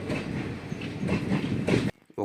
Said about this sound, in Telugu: గాలి కూడా పట్టుకోలేనంత వేగంతో ట్రైన్ ముందుకు కదులుతోంది